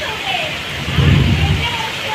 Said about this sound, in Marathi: बेकार गडगडत आहे त्यामुळे मोबाईल बंद करून ठेवूया